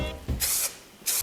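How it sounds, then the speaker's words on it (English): An aerosol can of Santa Snow flocking sprays in two short, close hissing bursts onto a Christmas tree, with faint handling noises around them. "I'm going to spray on the Santa Snow"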